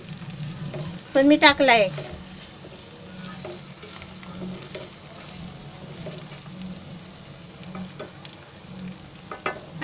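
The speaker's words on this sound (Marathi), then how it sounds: "आता मी त्याच्यामध्ये हा गाजर टाकते, थोडा हलवते" Carrot pieces are stirred into a frying onion, ginger and garlic paste while cooking a vaali bean bhaji, giving a steady soft sizzle with scraping stir strokes. A brief voice speaks near the start.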